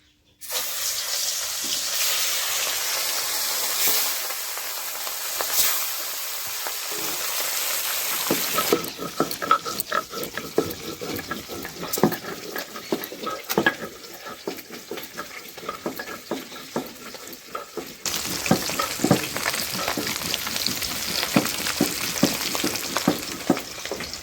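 Catla fish pieces fry in hot oil with a loud, continuous close-up sizzle and crackle, punctuated by scraping and turning sounds that swell and ease in stretches.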